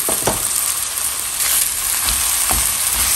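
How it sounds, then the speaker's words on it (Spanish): Ground beef, 100 pesos' worth, frying in a pan for economical tacos, a steady loud sizzle with faint crackles and occasional stirring scrapes. "Vamos a agregar 100 pesos de carne molida."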